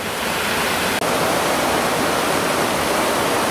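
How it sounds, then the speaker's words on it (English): River water flows steadily at the confluence of the Garw and Ogmore rivers near Brynmenyn, a loud continuous rushing wash with one brief dropout. "This is where the Caro River joins into the Ogwa."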